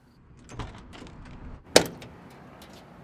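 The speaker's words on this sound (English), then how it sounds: "Doors on the Bronco open up nice." Door of a 1966 Ford Bronco pick-up being opened: a soft latch click and handling noise, then one sharp metallic clunk of the door releasing, close and alone with no talking.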